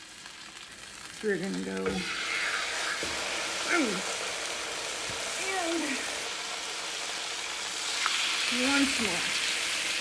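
Chicken pieces seasoned with salt and pepper brown in a hot frying pan, a steady crackling sizzle running throughout with brief clinks and stirring noises, while a person talks over it.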